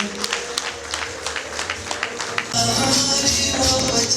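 A crowd claps at a Rwandan engagement and dowry ceremony, scattered sharp claps for a couple of seconds before louder music and crowd noise swell over them.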